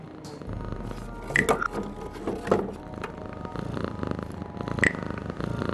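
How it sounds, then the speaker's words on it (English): A cat purrs in the video game Frequency Missing, a low rumbling purr under faint game ambience with a few soft clicks and brighter chirps. "There's a cat by an open window up there."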